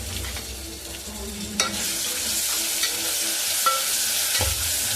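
Ginger garlic paste fries with golden brown onions in a pan for mutton curry and bagara rice, a loud, steady sizzle close by, broken by occasional light scrapes and clicks from a stirring spoon.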